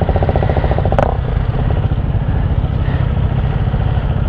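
CFMoto 675NK motorcycle fitted with an Exos X6 exhaust idling up close, a steady low rumble with ticking mechanical clatter throughout and a brief sharp click near the start.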